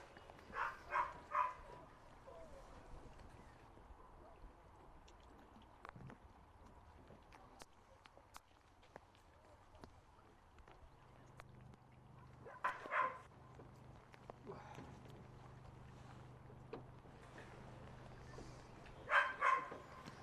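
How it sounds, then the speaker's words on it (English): A dog barks in short bursts of two or three near a rowing championship commentary position on a river, recurring a few times at moderate distance over quiet background noise. "apologies if you can hear a dog on our commentary"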